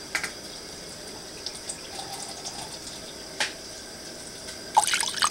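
Water trickles and splashes briefly into a bowl, with a few clinks and drips scattered through an otherwise quiet stretch.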